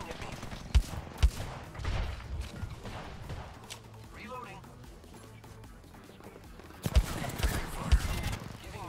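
Enemy gunfire in a shooter video game, a few sharp shots at the start and a louder cluster near the end, with quieter game noise and a voice talking in between.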